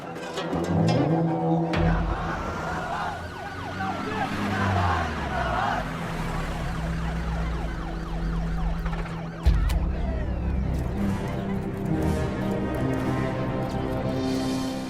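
Siren of a politician's approaching car on a road, wailing and rising over rumbling traffic and engine noise, loud and sustained with a sudden jolt midway.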